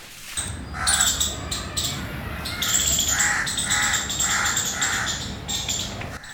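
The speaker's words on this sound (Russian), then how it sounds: "во дворе отеля тебя окружает пение птиц и плоды хлебного дерева" Birds call and sing in a hotel courtyard in Thamel, Nepal, with repeated bright chirps and a few harsher crow-like caws over a steady outdoor hum, moderately close and without speech.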